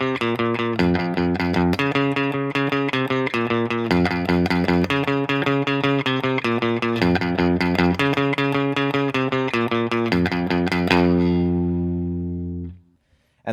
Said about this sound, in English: So this entire song is made up of a single riff.